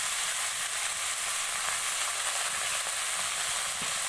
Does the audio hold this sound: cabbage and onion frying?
yes